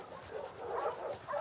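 A dog in The Last of Us Part II video game whimpers with a few soft, wavering whines over a low background, close and moderately loud.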